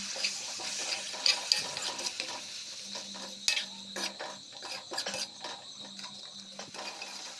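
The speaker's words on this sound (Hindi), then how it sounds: "बस पानी देना है।" Water is poured into a pan of frying masala for an Odia egg and potato curry. The pour is quiet, with soft watery splashing under faint clinks of utensils against the cookware.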